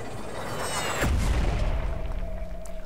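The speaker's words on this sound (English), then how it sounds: "let's drop the thumper and see how this goes" A thumper drops and lands in the video game Firefall: a sudden heavy boom at about one second, followed by a rumbling low impact and lingering mechanical hum.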